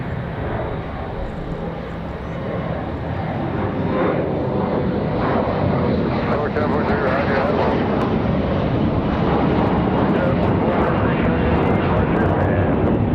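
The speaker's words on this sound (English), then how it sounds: "Looks like we got another Delta on the way out there." A Delta airliner departing Raleigh-Durham International Airport, a steady, loud jet roar that holds and swells slightly throughout, with some wind noise on the microphone.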